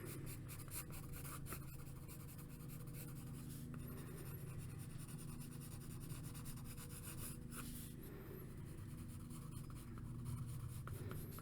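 Graphite pencil scratching and rubbing across paper while roughing in a drawing of Wolverine, a continuous soft scraping of steady strokes with brief pauses, close up and quiet.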